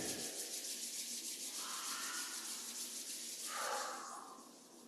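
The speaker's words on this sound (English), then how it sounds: "Rub your palms together. Massage your hands as you rub them together." Palms rubbed briskly together close by, a continuous soft friction swish that swells in two stronger strokes before trailing off.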